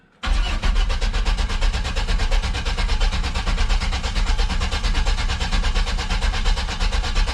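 A Chevy LS swapped engine in an OBS Chevy truck fires up and settles into a loud, steady, rough-pulsing idle that runs on without letup, close to the microphone.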